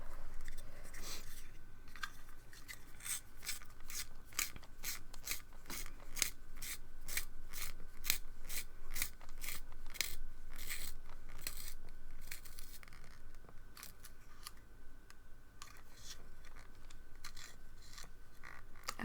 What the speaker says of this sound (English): I need a long point pencil sharpener.